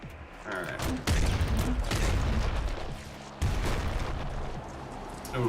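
Grenade launcher rounds in the video game Nuclear Throne burst in two loud, sharp explosions, each trailing into a dense wash of chaotic gunfire-like game noise.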